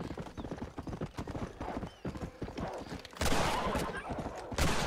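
Galloping horse hooves clip-clop in a rapid rhythm in the video game Red Dead Redemption, with a neigh and louder bursts of action toward the end, close and busy.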